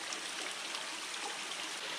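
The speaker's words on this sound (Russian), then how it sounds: "Вода идет как будто прямо вот из середины, вот где вот каменистая больше порода" Spring water seeping and trickling from rocky ground at a radon spring, a soft continuous babbling wash, close and fairly quiet, with no voices.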